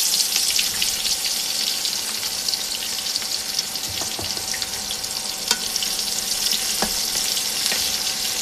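Onion and garlic frying in hot oil for a spicy fish and radish curry, a steady broadband sizzle throughout with occasional clinks and stirring scrapes, close and fairly loud, no talking.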